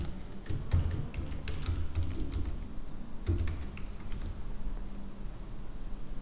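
Computer keyboard typing during an MS Access login form tutorial, a scattered run of light key taps and clicks at close range over a low steady room hum, with no voices.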